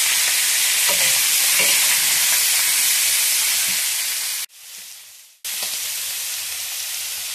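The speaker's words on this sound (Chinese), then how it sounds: "把这个羊肉炒下去" Lamb stir-fried in oil in a pot, a loud close wash of hissing sizzle that fades briefly to near silence and then returns just as strongly, with faint scraping from stirring.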